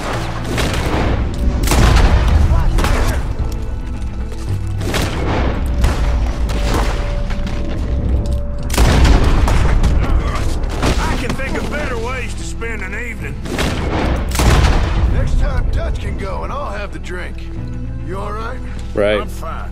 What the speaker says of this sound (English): I can hardly see what I'm shooting at.